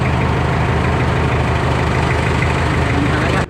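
A car engine idles steadily and loudly close by at a mountain camping spot, a constant low rumble that cuts off at the end.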